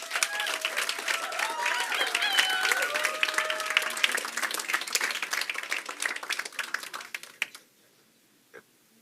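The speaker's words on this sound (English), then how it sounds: "if we could get a round of applause for him" Audience applause at a Pechakucha Night event in Bermuda for a first-time presenter, steady dense clapping with a few voices mixed in, lasting about seven seconds before stopping abruptly, leaving one faint clap.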